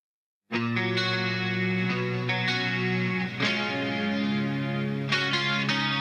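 Clean electric guitar chords through an ADA MP-1 preamp ring out with a lush, shimmering effect from four layered choruses, sustained, with a few new strums along the way.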